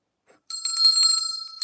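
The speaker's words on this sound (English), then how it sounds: "Let me ring my bell." Bright metallic bell rung in a quick trill of repeated strikes, a sharp clear ringing tone that starts abruptly after a short silence and stays close and loud to the end.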